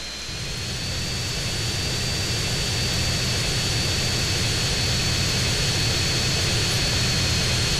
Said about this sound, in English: So now you'll take control of this plane, and now you gotta fly it back to the airport.